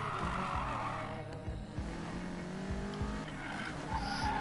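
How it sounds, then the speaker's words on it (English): A car engine in the racing video game Need for Speed Payback, revving and droning loudly with rhythmic gear-shift pulses and a tire squeal, continuous throughout. "Oh yeah, listen to that engine purr."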